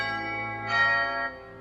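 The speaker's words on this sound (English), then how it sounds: "Ring the doorbell" A doorbell rings once with a sustained, bell-like tone that swells briefly and then fades, heard alone without voices.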